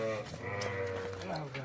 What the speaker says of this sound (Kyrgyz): Енеси да атасы да афган козулар бар.